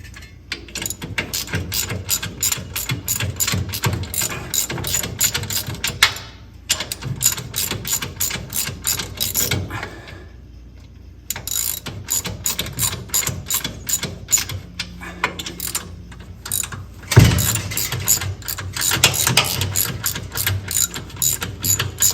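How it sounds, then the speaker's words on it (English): A ratchet tightens bolts on the power steering box of a 1952 Chevy truck, giving long runs of rapid, close metallic clicking, broken by short pauses and one sharp clank. "I'll get them all tightened up. I'm gonna go around evenly,"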